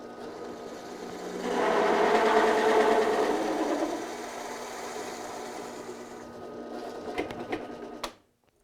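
Mahogany end-grain plug being cut with a power saw: a steady machine whir swells into a louder, sustained cutting stretch, then settles back to a running hum, with a few sharp knocks before it stops abruptly.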